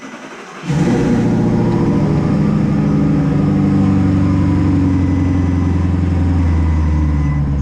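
An Audi R8 with twin turbos and a full straight-pipe exhaust starts up and settles into a steady, fairly muted engine drone, running alone without talk.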